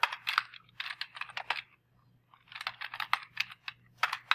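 Quick bursts of typing on a computer keyboard, clustered key clicks with a short pause in the middle, close and fairly quiet over a faint steady hum.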